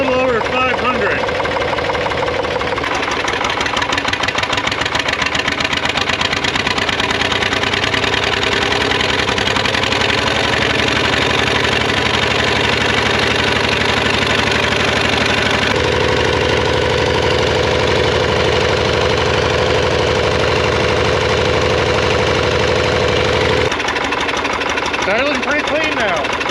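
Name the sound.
air-cooled Lister diesel engine idling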